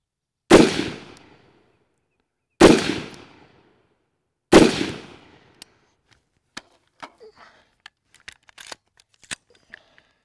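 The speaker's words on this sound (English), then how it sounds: "I shot all 3 the same, 3 separate targets, only about a foot apart." Three loud rifle shots are fired at three separate targets about a foot apart, evenly spaced roughly two seconds apart with short echoing tails. Faint scattered clicks and taps follow.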